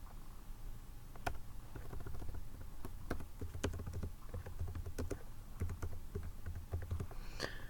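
Quick, uneven clicks of keys on a computer keyboard as a search term is entered, close and fairly quiet, with short pauses between bursts.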